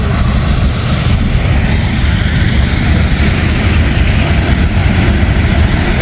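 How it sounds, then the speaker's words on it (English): A steel coil freight train rolls past close by, a steady, loud broadband rumble of railcars and wheels that holds evenly for about six seconds with no pauses. "That's the steel coil train."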